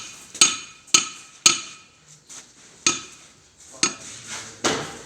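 A hammer taps a concrete block into place on a 12-foot block wall under construction, giving about eight sharp, ringing knocks at irregular intervals, close and clear with no talk.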